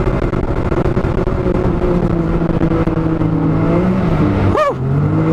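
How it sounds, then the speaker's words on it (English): FUNCO off-road car on new System 3 SS360 dual sport sand tires, driving through soft sand on a mountainside, with a loud, steady engine drone that shifts pitch as it throttles, and a short sharp rising whine near the end. "So I'm in the FUNCO car that has the SS360s on."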